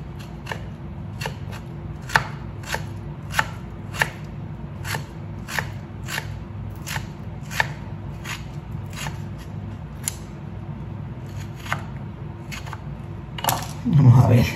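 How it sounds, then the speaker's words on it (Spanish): A knife chops food on a cutting board in a steady series of sharp, close taps, around a dozen evenly spaced strikes, followed by a brief burst of handling noise at the end. "Ahora lo picamos del otro güey."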